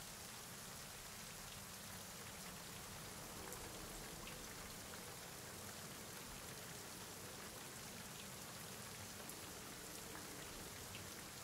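Steady, dense rainfall hisses continuously at an even level throughout, with no voices, as background ambience for a Dungeons & Dragons tabletop session.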